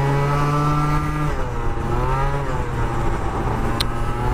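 A car engine revs hard and accelerates up close, its rising harmonic drone shifting pitch as it climbs through a gear change, loud and continuous.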